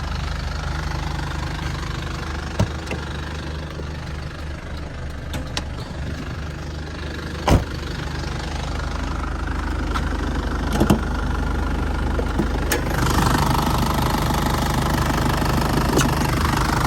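An Isuzu Dragon Eye 3.0 pickup engine, stock pump and hot from driving, idles with a steady low mechanical hum and faint knocking, close up, with a few sharp clicks and taps over it and no talk.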